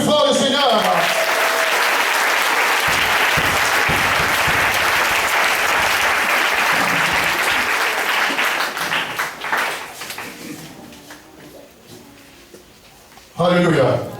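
A church congregation breaks into loud, sustained applause and cheering for the Lord, a dense wash of clapping that holds steady for about eight seconds, then thins and fades before a brief burst of applause returns at the end.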